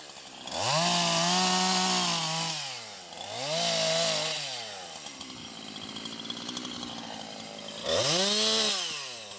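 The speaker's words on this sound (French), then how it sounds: "Donc il y a un collègue qui est venu tronçonner." A chainsaw cuts through wood at a carp-fishing campsite, revving up and down in several loud bursts with audible pitch swoops, idling between cuts, nearby.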